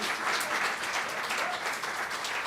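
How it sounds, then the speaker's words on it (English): Sunday service congregation gives Bill a big round of applause, a dense, steady wash of many hands clapping at moderate volume throughout. "Another big round of applause for Bill, please."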